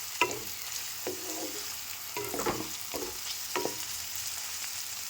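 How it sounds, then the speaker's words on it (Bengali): Snake gourd frying in a pan over a lowered gas flame, a steady soft sizzle broken by a few sharp scraping stirs, close and moderately quiet with no voices. "গ্যাসের আঁচটা কমিয়ে দিয়ে আমি চিচিঙেটাকে ভেজে নিয়েছি"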